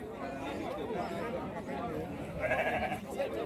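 Goats bleat at a goat market in Folha Miúda, Caraíbas, Alagoas, rising over a busy crowd murmur with a clearer nearby bleat late on, while people talk throughout.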